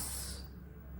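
Hot peanut tempering in oil poured over puffed rice gives a brief, close sizzling hiss that fades after a moment into a quiet, low background rumble.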